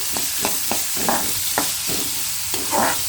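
Hot oil sizzles steadily in a pan as a tempering for vegetable uppittu fries, while a utensil scrapes and clinks in a few regular stirring strokes.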